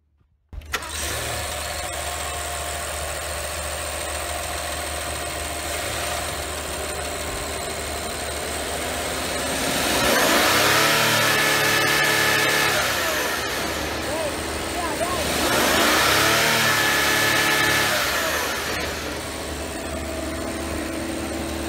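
A 2019 Rolls-Royce Cullinan's 563-horsepower petrol engine idles with a steady, smooth hum close by, then revs up twice in broad, rising swells before settling back to idle.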